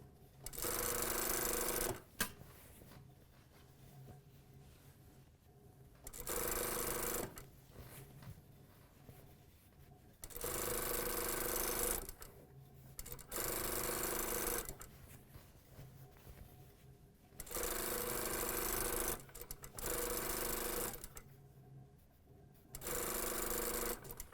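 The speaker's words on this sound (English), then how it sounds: "Stitching this all the way down." A sewing machine stitches a pant seam in several bursts of rapid, buzzing stitching. Each run lasts a few seconds and is separated by quiet pauses. The sound is close but the overall level is low, with no speech.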